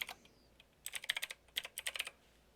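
Fingers tap out an email address on a computer keyboard in quick, close clusters of crisp keystrokes with short pauses between bursts.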